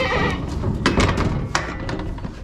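Loose goats in a barn's horse stalls bleat in several short, overlapping calls near at hand, mixed with knocks and thumps against the stall walls.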